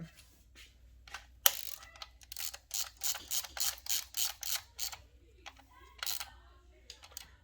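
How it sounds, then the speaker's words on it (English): Ratcheting wrench tightening the stator plate mounting bolts on a BMW motorcycle during an electronic ignition install, a close series of quick clicking ratchet bursts in a quiet workshop. "let me grab a wrench and tighten those up"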